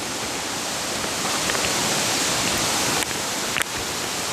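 Steady broadband rush of flowing water at Tad Kwang Si waterfall, a continuous even roar filling the scene with a couple of brief knocks near the end and no voices.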